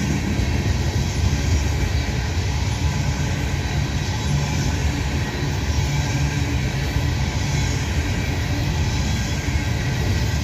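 A freight train with two locomotives at the head and a distributed power unit midway back rumbles steadily past, a loud, continuous low roar and rattle of rolling cars that holds close and even throughout with no voices.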